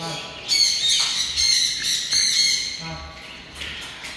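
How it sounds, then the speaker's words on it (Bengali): Large parrots at a bird market in Dubai, loud harsh squawks in several close bursts, repeated back to back over a few seconds. "যে বড় বড় পাখিগুলো দেখতেছেন"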